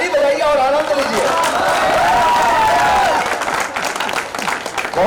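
An audience at a stage program at a university in India claps loudly and steadily, a dense wash of hands with crowd murmur and a voice carrying over the top.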